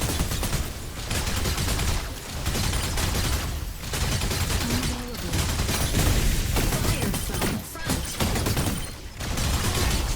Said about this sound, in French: Le fusil d'assaut, j'y vais quasiment à fond.